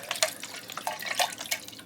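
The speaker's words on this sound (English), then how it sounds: "I'm just going to rinse out my can here" An empty can is rinsed out with water, making brief close splashes and sloshing drips in quick irregular bursts.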